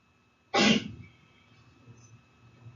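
A single sharp sneeze bursts out in a quiet lecture room, short and fairly loud, followed by faint breathing and room noise.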